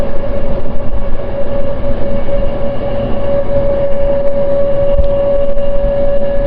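MEMU passenger train 67284 on the Nidadavolu–Bhimavaram line runs through Lakshminarayanapuram station without stopping, giving a loud, steady rumble with rhythmic wheel clatter and a sustained tonal hum, heard from on board.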